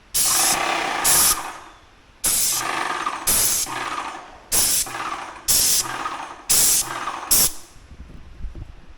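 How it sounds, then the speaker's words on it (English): A Magnum X5 airless paint sprayer fires in repeated bursts of loud hissing spray, about seven on-off blasts of varying length with short quiet gaps between, no voices. "This is airless, so it just sprays the paint where you want it."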